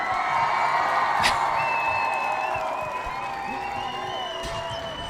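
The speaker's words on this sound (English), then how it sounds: "These are different applause sounds" Applause sound effects play on a live game stream, a steady layered crowd of clapping and cheering with a couple of whoops, continuous and fairly loud across the whole stretch.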